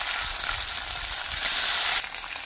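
Tomato hits hot oil already spiced with whole cumin, ginger, cumin and dried red chilli paste, giving a steady, close, loud frying sizzle that swells slightly toward the end before easing.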